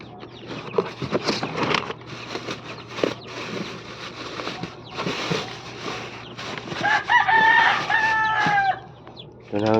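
Broiler chickens on a poultry farm cluck and squawk nearby, with a louder burst of calls toward the end. A person speaks briefly under the birds.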